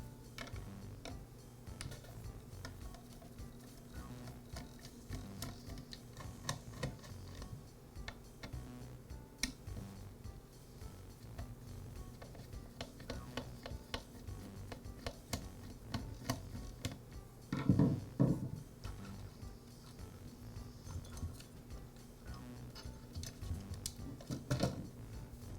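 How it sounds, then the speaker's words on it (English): Screws are backed out of the starter housing on a Ryobi string trimmer, a close run of soft ticking and clicking from the screwdriver with a couple of brief louder knocks. "Now remove the 4 screws that secure the housing and starter assembly to the rest of the motor"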